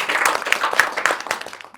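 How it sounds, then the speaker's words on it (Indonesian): Audience applause and clapping at a talk event in Badung, Bali, a short burst of many hands with sharp claps standing out, steady then tapering, heard alone without speech. "Oke, tepuk tangan dong."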